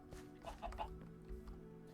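Chickens in a coop in the Minecraft video game, several short soft clucks in quick succession over a quiet background hum.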